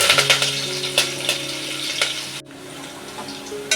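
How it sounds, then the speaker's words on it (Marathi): Crushed red garlic and curry leaves sautéing in hot oil, a crackling sizzle with quick spatula scrapes in bursts early on, then settling into a quieter steady fry, close and without speech. "लसूण वगैरे ना चांगली परतून घ्यायची तेलामध्ये"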